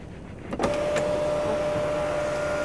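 A 2014 Hyundai Veloster 1.6 Premium's panoramic sunroof opening: a click followed by a smooth, steady electric motor whine that continues close by inside the cabin with no talking.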